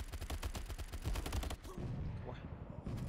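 Rapid bursts of automatic gunfire crackle in the World War 2: Battle Combat shooter game, dense and fast for about a second and a half, then thinning to a quieter background with a few scattered shots.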